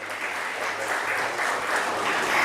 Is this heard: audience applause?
yes